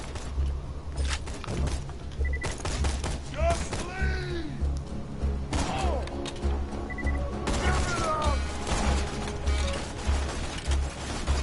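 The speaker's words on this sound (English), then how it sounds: "Pistol, fire pistol." Pistol gunfire in the video game Borderlands 2, rapid repeated sharp shots mixed with impacts, explosions and a constant low game soundtrack, dense and loud throughout.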